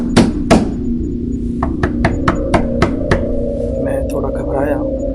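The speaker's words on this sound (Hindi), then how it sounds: "किसी ने खिड़की पर थपथपाया, ठक-ठक।" Sharp knocks on a window: two heavy raps, then a quicker run of about six lighter taps, set against a low background drone and a faint voice.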